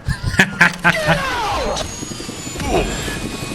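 Helicopter in a zombie video game carrying survivors out of the city, a steady whirring engine drone under scattered game sound effects and short thumps, with a faint voice.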